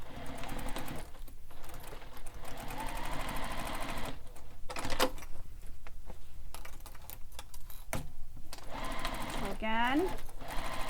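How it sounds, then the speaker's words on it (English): A sewing machine stitches a bag in bursts of fast rattling hum, stopping and starting several times with short pauses between runs. A voice speaks briefly over it. "don't forget to backstitch"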